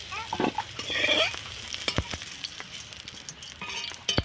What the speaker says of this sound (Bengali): আমি ফুলকপি ভাজবো আর আলু ভেজে নেবো